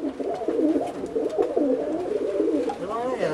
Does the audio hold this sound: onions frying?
no